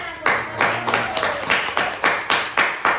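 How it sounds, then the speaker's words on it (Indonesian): A classroom group claps at a microteaching session on Islamic religious education, producing about ten loud, fairly even bursts of clapping in a steady rhythm, close by. "Oke, tepuk tangan semuanya."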